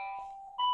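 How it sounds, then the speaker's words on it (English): An electronic school bell rings inside a school, a steady sustained tone that shifts pitch and grows louder partway through the brief moment. "there's the bell. I'm recording this at school."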